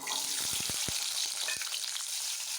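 About 100 grams of onion fry in hot oil in a pan for a traditional dried-fish (karuvadu) curry: a dense, steady sizzle with a quick run of stirring knocks near the start and a single knock later.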